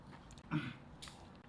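Food eaten together with egg is chewed and bitten in a short, soft burst near the mouth, with a quiet moment before and after.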